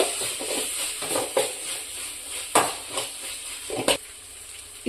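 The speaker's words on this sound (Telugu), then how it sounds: "ఇలా మంచిగా మిక్స్ చేసుకున్న తర్వాత కొంచెం కొత్తిమీర, పుదీనా వేసుకొని ఫ్రై చేసుకోవాలి." Tomato rice masala with coriander and mint fries in a pan, a continuous bright sizzle with repeated scraping strokes of a spatula and a few louder clacks against the pan, close and without speech.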